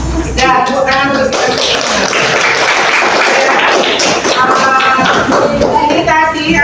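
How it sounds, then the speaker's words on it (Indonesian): Students clap continuously in a classroom, a loud, dense, steady patter of many hands that runs throughout under overlapping children's voices and chatter. "Dan tepuk tangan terus"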